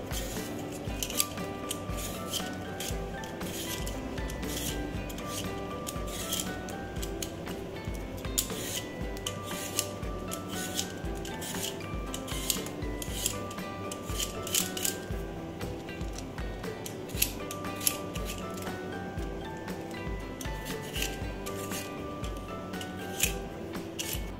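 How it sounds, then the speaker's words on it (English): Potatoes are peeled for a Spanish omelette with a knife, giving a long run of quick, close scraping and slicing strokes in an uneven rhythm, with occasional light clinks. "Next we're going to peel the potatoes."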